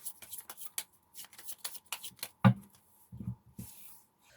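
Tarot cards are shuffled and drawn by hand in a quick run of soft riffling flicks, then come a sharp slap and a couple of dull taps, all close and fairly quiet.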